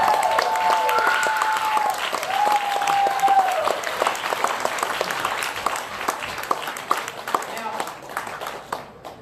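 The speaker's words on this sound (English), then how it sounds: "The more you applaud, the better you will feel" Audience at a magic show in an Atlanta cafe applauds wildly, dense continuous clapping that holds strong for several seconds before slowly thinning, with a few whistles and cheers rising early on.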